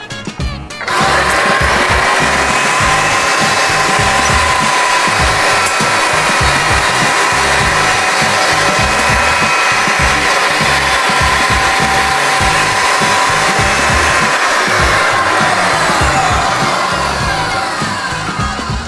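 A roll groover machine forms a groove in pipe, giving a steady, loud mechanical whirring and grinding drone that runs almost unbroken for the whole stretch, close by, with no talking.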